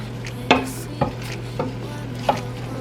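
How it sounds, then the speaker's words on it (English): A spoon stirring soup mix into pork chops in a baking dish, four distinct scraping clinks spaced about half a second apart over a low steady hum, close and fairly loud. "I just stir this up"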